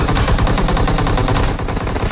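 Dense, continuous automatic gunfire from PUBG Mobile, a rapid loud burst of shots firing without pause through the whole stretch.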